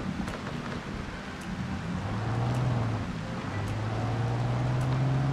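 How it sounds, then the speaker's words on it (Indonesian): Heavy rain weather effect in a battle royale video game, a steady broadband hiss of downpour with a low engine-like hum droning underneath, moderately loud and constant throughout. "Hujan gede gini"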